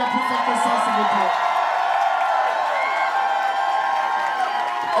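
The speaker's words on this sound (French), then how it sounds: "On peut les applaudir plus fort que ça, s'il vous plaît." A crowd at a drag show finale cheers, whoops and claps, a loud, dense roar that keeps going without a break, with shrill shouts rising above the applause.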